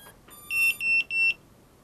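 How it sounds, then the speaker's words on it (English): An EMAX RS1106 quadcopter beeps after a 2S battery is plugged in: a short faint chime, then three loud, clear electronic tones in quick even succession, with nothing else sounding around them. "So if I plug the 2S in, get the beeps"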